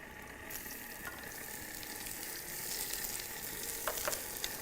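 Chili and onion frying in a pan, a faint steady sizzle with light crackles and a few soft stirring scrapes toward the end, low in level and with nobody talking.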